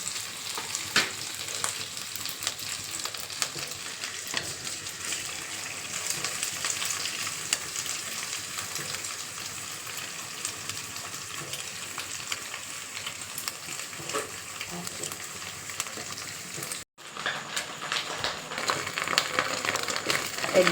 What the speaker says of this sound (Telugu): ఎగ్ అంతా కూడా మంచిగా ఫ్రై అయిపోయింది